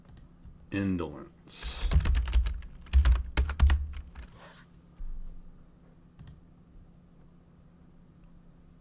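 Bursts of typing on a computer keyboard, close and fairly loud, with clustered key clacks and pauses. A voice speaks briefly before the keystrokes, which then trail off into faint clicks.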